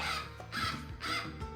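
Stymphalian birds in the video game Age of Mythology Retold let out three harsh, crow-like caws in quick succession, each call clear and evenly spaced.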